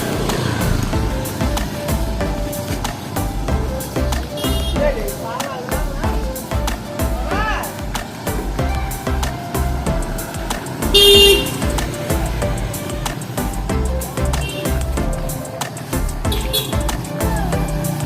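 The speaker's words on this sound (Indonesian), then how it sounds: "Mobil-mobil pickup yang mengangkat sayur-sayuran, guys, untuk dijual di desa-desa." Pickup trucks carrying vegetables rumble past at a village market before dawn. Engine noise comes with short horn toots and birds chirping in the background, and people talk nearby.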